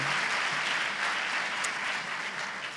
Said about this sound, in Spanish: Pues dale un aplauso al Señor.